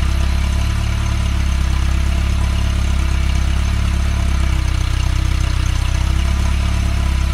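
RT132 engine idling after repair, a steady, loud, close mechanical drone with even low pulsing, running uninterrupted with no talking.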